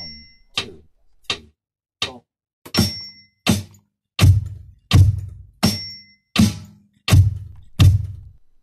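A beginner drum kit rhythm played alone: about a dozen evenly spaced strikes, the later ones carrying a deep bass drum thump beneath sharp cymbal and snare attacks, loud and close with silence between hits.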